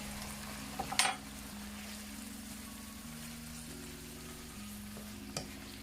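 Seasoning fries in a pan for ackee and saltfish, a faint steady sizzle under low background tones, with a couple of sharp utensil clinks against the pan near the start and end.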